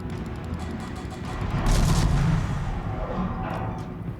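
Naval guns fire in the World of Warships video game: heavy booming salvos rumble over a steady battle din, with the strongest burst in the middle and a lighter blast near the end.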